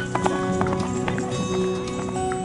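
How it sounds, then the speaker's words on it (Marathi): Horses at a livestock market in Akluj, Maharashtra, a steady run of hoof clip-clops against a constant background hum and murmur of the crowd. "घोड्यांच्या टापांचा आवाज ऐकू येतोय"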